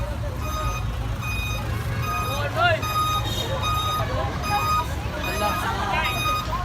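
A truck hauling festival props behind the scenes at Sinulog 2019 sounds repeated reversing beeps over a steady low engine rumble, with a busy crowd murmuring nearby.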